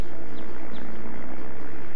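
A cartoon airplane engine drones steadily as the plane comes in to land, a broad, continuous rumble with a faint high whine, heard alone without voices.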